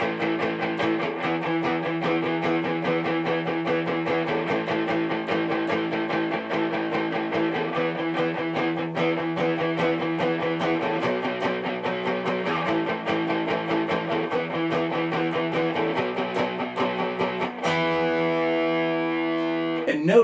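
An overdriven electric guitar plays a steady blues progression in E, chugging rhythm patterns shifting through chord changes, closing with a final strummed chord.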